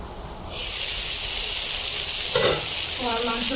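Chicken cooks in a covered pan with gourd in a Bengali kitchen. A loud, hissing sizzle swells in after a quiet start and holds steady, with a brief voice partway through.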